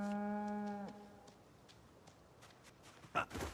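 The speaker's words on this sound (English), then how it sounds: "Okay, yep, this is how you pet the cow." A cow in a survival video game gives one long, loud low moo that ends abruptly, followed by quiet scattered taps and footsteps and a faint voice near the end.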